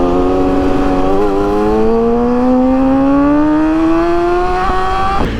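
A Honda motorcycle's engine accelerates hard, its loud, rough roar climbing steadily in pitch for about five seconds before a sharp shift near the end.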